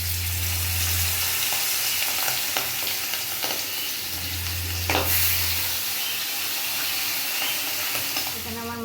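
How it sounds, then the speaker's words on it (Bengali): Fish fries in hot oil in a home kitchen, a steady close sizzle and crackle with scattered pops and a few utensil knocks, while a low hum comes and goes underneath; nobody speaks. "এখন আমি মাছগুলো ভেজে নেব। আমার তেল গরম হয়ে গেছে।"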